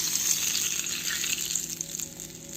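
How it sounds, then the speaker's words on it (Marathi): Hot oil sizzles steadily as two spoonfuls are poured from a heated kadhai into a spinach pakora batter mixture, a close, continuous hiss with no talking. "2 चम्मच आपल्याला ह्या मिश्रणमध्ये 2 चम्मच गरम तेल टाकायचे आहे।"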